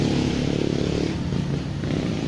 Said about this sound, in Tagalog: motor na dumadaan